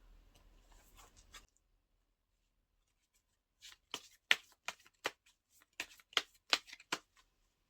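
Tarot cards shuffled by hand during a reading: soft riffling hiss at first, then a pause, followed by a run of crisp, close snapping card flicks and taps in a quick irregular rhythm, with no voices.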